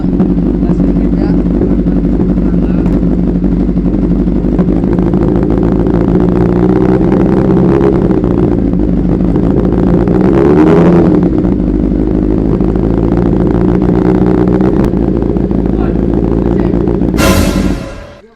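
A Kawasaki ZX11 ZZR1100 motorcycle fitted with a new exhaust idles with a deep, steady, loud rumble, briefly swelling as the throttle is blipped, while people talk over it, until the engine is cut at the end.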